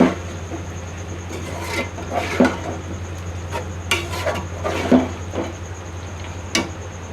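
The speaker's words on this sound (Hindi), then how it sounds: "इनको मिक्स करेंगे और अच्छी तरह से इसको भुनेंगे इसमें।" Beef being stirred and fried in masala in a pot, with a low steady sizzle under repeated scraping and clinking stir strokes, and a voice talking over it.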